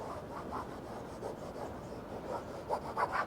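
Faint, soft repeated rubbing strokes of a rag across a faded car bumper surface, a quiet scuffing rhythm that grows slightly more pronounced toward the end.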